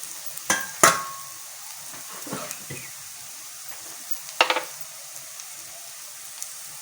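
Grated raw plantain goes into a pan of sautéed onions with a few sharp clinks and stirring scrapes over a quiet, faint sizzle, and the rest of the stretch is mostly hushed.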